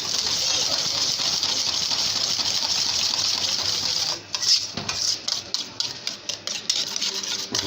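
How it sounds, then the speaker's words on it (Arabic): A spoon stirs Syrian garlic sauce (toum) in a pot. It starts as a steady, loud, gushing whir, then turns into a series of scraping, clinking strokes against the metal. "تقلب تقلب تقلب تقلب"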